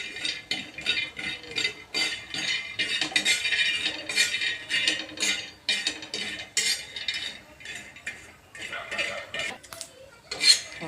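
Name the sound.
peanuts being roasted and stirred in a pan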